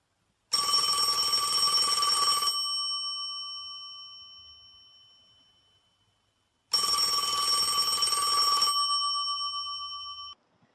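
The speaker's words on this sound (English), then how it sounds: "The pink princess phone rang so hard it shook the nightstand." An old-style pink princess telephone bell rings twice, each a loud two-second metallic trill with a long shimmering decay, separated by silence.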